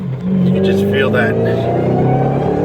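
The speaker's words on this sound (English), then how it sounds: "you hear the supercharger" A 2010 Mustang GT500 accelerates hard from inside the cabin, its supercharged engine roaring loudly and steadily with a rising whine layered over the low drone for nearly three seconds.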